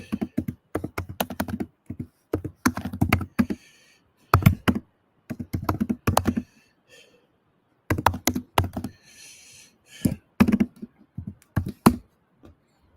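Bursts of typing on a computer keyboard, close and crisp, with clustered keystrokes broken by short quiet gaps across the stretch.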